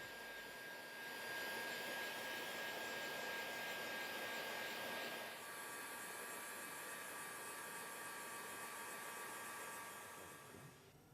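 Heat gun blowing a steady stream of hot air onto car wrap film, a continuous whooshing hiss that holds level, dips slightly midway, then fades at the end.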